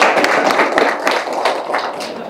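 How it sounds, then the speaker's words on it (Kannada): An audience claps continuously at a Kannada movie celebration event, a dense, loud wash of many hands with scattered thumps and a faint voice underneath. "ದಯವಿಟ್ಟು ಚಪ್ಪಾಳೆ ಹೊಡೀರಿ"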